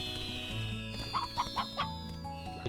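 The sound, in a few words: painted hens clucking, from video game Slime Rancher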